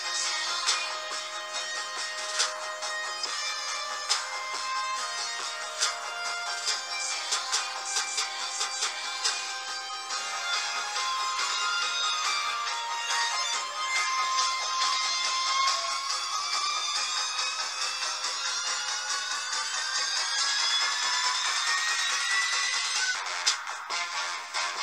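Trap dubstep track plays as a recorded song, a dense, bright mix with steady loudness and a rising synth sweep near the end, with no talking over it.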